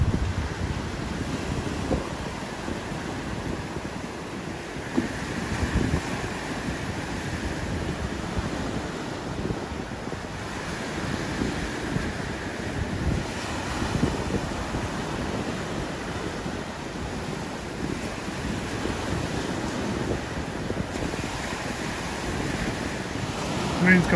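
Wind buffets the microphone while sea waves wash steadily beneath Southwold Pier at night, a continuous roaring surf and gusty rumble filling the whole stretch, with faint voices now and then underneath.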